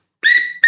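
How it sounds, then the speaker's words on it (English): A shrill bear whistle blows twice, a long high blast and then a short second one, loud and close. "I have my bear whistle on for you guys today."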